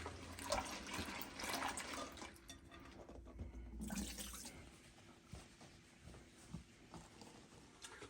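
Fresh cranberries are rinsed under a running kitchen tap, with water pouring and splashing steadily at low level, rising and falling slightly as the berries are moved.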